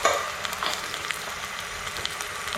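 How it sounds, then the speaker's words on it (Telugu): Tempering spices (mustard seeds, urad dal and chana dal) fry in hot oil for gongura chutney, a soft continuous sizzle with faint crackling pops, quiet and uninterrupted. "ఇంక తాలింపు దినుసులు వేసుకుందాం."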